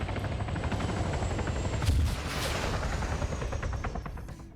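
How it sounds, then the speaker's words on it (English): Gunfire in an Arma military operation: a continuous rattle of rapid shots through a steady rumbling roar, with a heavier burst near the middle, loud throughout and fading slightly at the end. "He returns fire!"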